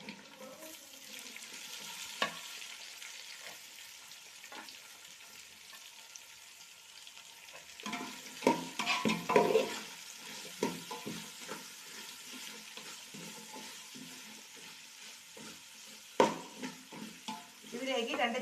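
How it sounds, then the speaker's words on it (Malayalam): Four sliced onions fry in a pan for a Kerala-style chicken curry, with a steady sizzle and occasional stirring clatter that grows busier and louder in the second half. "അപ്പോൾ ഈ 4 സവാള നമുക്ക് ഇതിലേക്ക് ചേർത്ത് കൊടുക്കാം."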